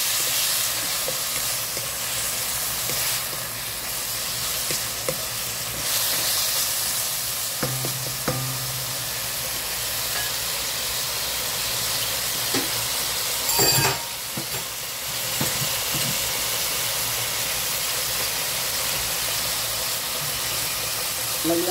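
Tender beef sautéing in a hot pan for lunch, a steady loud sizzle and hiss with occasional stirring clatter, a voice speaking faintly at times.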